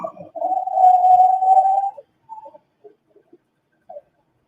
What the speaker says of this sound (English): Maybe they got a bird in the house.